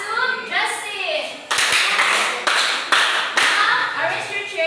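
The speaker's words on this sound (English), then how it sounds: "Let's give 5 claps to Justin." A classroom of students claps in unison, five sharp separate claps spaced roughly half a second apart, after a voice speaks at the start.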